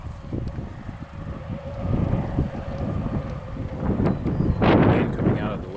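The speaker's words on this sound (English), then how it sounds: "Wind coming out of the west, northwest. Very, very breezy." Strong, breezy wind from the west-northwest buffets the microphone in loud, gusty bursts outdoors on a cold day, with a person talking through it.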